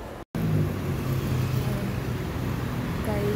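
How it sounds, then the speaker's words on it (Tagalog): Steady road traffic with many vehicles passing, a continuous close engine and tire roar that fills the clip after a brief dropout near the start, with no speech over it. "Dami na namang mga sasakyan, kaya hirap na kasi baka mamaya masagasaan pa tayo."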